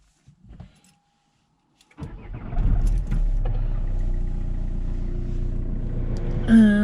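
A replacement front heater blower motor in a Citroen C4 Grand Picasso spins up after a click and a short pause, settling into a steady close whir with a rising tone near the end.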